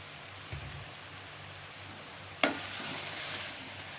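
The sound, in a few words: potatoes added to a hot pan and frying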